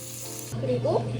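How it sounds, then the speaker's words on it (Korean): Shrimp frying in melted butter in a pan, a steady close sizzle with a low hum running underneath, briefly swelling in the second half. "버터에다 새우를 볶아줍니다."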